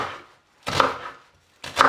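A knife cuts an onion in half on a board, heard as two separate close, crisp crunching cuts about a second apart, each with a short sharp burst and quiet between them.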